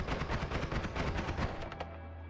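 A wand shooting rapid spark bolts in the Noita video game: a fast run of crackling zaps at an even rhythm that stops after about a second and a half, leaving a low hum.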